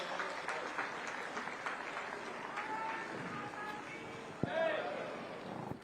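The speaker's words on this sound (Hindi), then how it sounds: "देवियों सज्जनों जोरदार तालियां हो जाए माननीय मुख्यमंत्री महोदय के लिए।" Audience clapping at an International Yoga Day state ceremony in Panchkula, a faint, distant patter of applause under a voice speaking over a loudspeaker, with a brief louder swell near the end.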